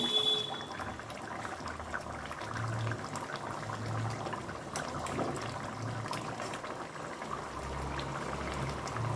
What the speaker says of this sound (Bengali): এখন ওপর থেকে আমি দিয়ে দেব ঘি, গাওয়া ঘি।